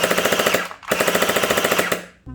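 Gel blaster motor running on full auto, firing in two loud, rapid bursts of evenly spaced clattering shots, close up, with a brief pause between them and a short whir at the end.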